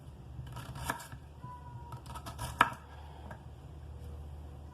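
Knife chopping ingredients into bite-sized pieces for homemade chicken soup (caldo de pollo), a few sharp taps on a cutting board scattered across a quiet background, with one louder cut standing out.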